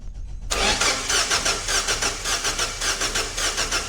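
A Lancia Delta 1.4 Turbo with a BRC LPG system, which stalled while driving and would not start, cranks after a short silence and catches into a loud, steady, pulsing run close by.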